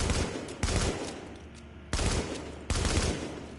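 Gunfire from a weapon at the firing range in The Division video game: three loud bursts of automatic fire, each sustained for under a second to over a second, separated by short gaps with lingering echo.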